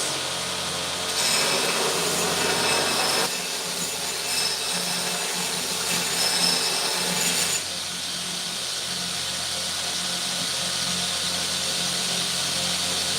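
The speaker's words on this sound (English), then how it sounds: "the reason it's not hot is because this is very rough sandpaper" Rough sandpaper rubbing against an axe head during reprofiling: a steady, loud abrasive hiss that keeps going for the whole stretch, a little brighter in the first half, with no talking.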